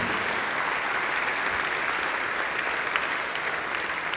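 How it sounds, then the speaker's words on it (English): Dense, steady audience applause at a 2005 DVD awards ceremony, a continuous wash of many hands clapping at even loudness throughout. "I still worry about the applause dying out before I reach the microphone"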